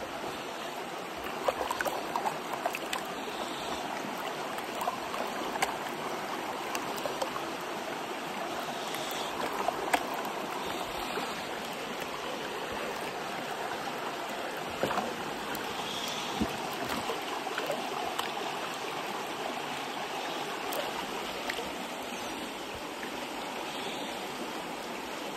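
Gold panning in a stream on a prospecting claim in western Canada: a steady, close rush of flowing water with soft sloshing and swirling from the pan throughout, with no voices.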